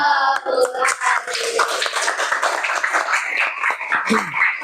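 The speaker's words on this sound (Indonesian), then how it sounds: "Oke, kasih tepuk tangan." Classroom pupils clapping hands together during a religious education lesson, a loose, fairly loud patter of many hands with some talk and a few sharper taps mixed in.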